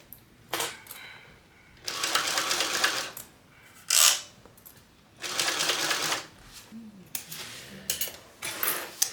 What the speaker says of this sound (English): now I am going to sew the remainder of my bag, the exterior, at 1/4 of an inch seam allowance